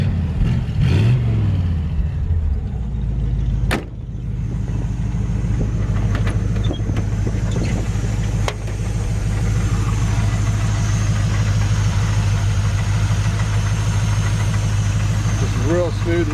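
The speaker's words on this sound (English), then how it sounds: "It's a great sounding engine." A 1936 Chevrolet 5-window coupe's engine idles in a smooth, steady, low rumble heard up close, with a single sharp knock early on.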